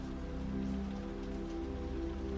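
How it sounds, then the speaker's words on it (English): Rain patters steadily against a cold, dark window pane, a soft, even wash of drops with no break, heard faintly alongside a low, steady hum. "the rhythm of the raindrops sliding down the cold, dark pane"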